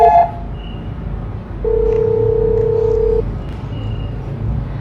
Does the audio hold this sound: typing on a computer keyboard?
no